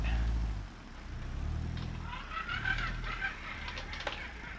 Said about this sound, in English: So it's got that telltale 4-cylinder sound to it